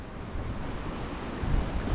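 A mountain stream in the forest near Gulmarg, Kashmir, rushes in a steady broadband wash that swells slightly toward the end, with no talking.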